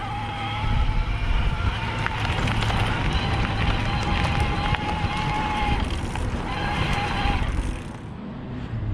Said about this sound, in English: even in Eco, it's kind of loud when you're pedaling at a higher RPM.